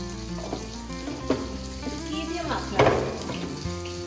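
Mutton frying in a pan hisses and sizzles steadily up close, with a few stirring scrapes and clinks breaking through the continuous crackle.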